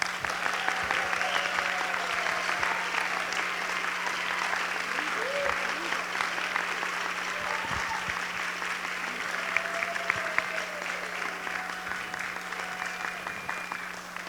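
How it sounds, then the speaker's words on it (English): Sustained applause from parents and children fills a school hall after a kids' Nativity performance, a steady wash of clapping with faint crowd voices mixed in and a low electrical hum beneath. "Boys and girls, parents, let's give them a hand of applause."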